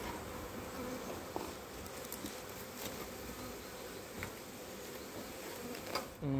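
A recently established honeybee colony without an introduced queen hums with a steady, soft buzzing during a hive inspection, with small bumps and handling noises and a brief sharper sound at the end.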